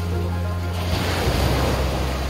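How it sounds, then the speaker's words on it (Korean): Ocean waves break along the shore of Jeju Island near a café street, a steady broadband wash that swells around the midpoint, with some wind rumble on the microphone and no talk. "파도 소리."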